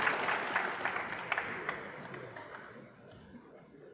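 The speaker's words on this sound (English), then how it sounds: "a smattering of applause before the balls have stopped rolling" A light smattering of applause from a snooker crowd at the Shanghai Masters, sparse claps that thin out and fade over a few seconds.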